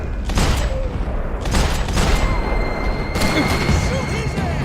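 Gunfire in the video game Max Payne 3: several loud, close bursts of shots about a second apart over a dense, continuous din of action noise, with possible faint voices underneath.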